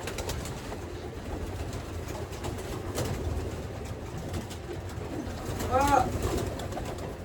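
Soft coos of racing pigeons at a one-loft race loft over a low outdoor rumble, with a clearer cooing call standing out near the end.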